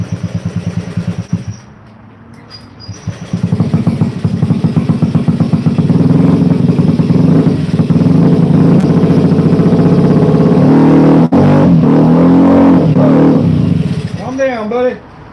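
Honda Ruckus scooter engine idles roughly and unevenly close by, struggling to stay running, surging louder midway, while someone talks over it.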